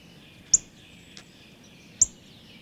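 Backyard birds near a seed feeder give two sharp, high chirps about a second and a half apart, with a fainter note between them, over a quiet outdoor hush.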